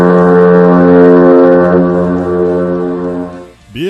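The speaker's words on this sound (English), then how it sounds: "Dudes on ships with big, loud foghorns love MultimediaJay Radio Style." A ship's foghorn sounds one long, loud, steady blast with a rich, deep tone that holds for over three seconds before cutting off abruptly.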